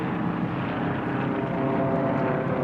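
Steady propeller-engine drone of Formula One class racing airplanes at the National Championship Air Races, a continuous broadband roar holding even loudness throughout with no talk.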